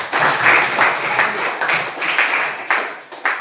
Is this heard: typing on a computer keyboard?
no